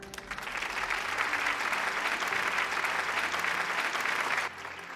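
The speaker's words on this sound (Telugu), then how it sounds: "అందరూ సాదరంగా చప్పట్లు కొట్టి ఆహ్వానించండి." A crowd at a sports trophy presentation gives sustained clapping to welcome a visiting MLA, steady and fairly soft, cutting off abruptly near the end.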